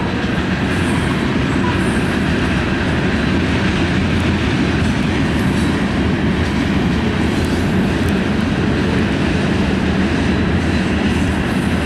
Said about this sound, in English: watch for that 6X train,